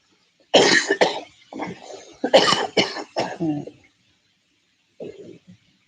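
Several harsh coughs come in a close burst, then a short pause and two smaller coughs, up close and loud.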